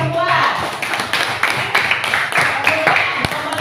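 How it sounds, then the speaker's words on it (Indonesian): A classroom of children claps together for a group's answer, rapid uneven hand claps filling the room at moderate loudness, with a teacher's voice and children's voices mixed in. "Tepuk tangan semua."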